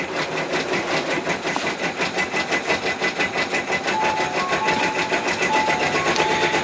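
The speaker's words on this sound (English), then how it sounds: "The machines you hear in the background are all my machines going because I'm making a new book tote" Several home sewing and embroidery machines run together in the background, a steady, loud mechanical whir with rapid needle-like pulsing that continues without a break.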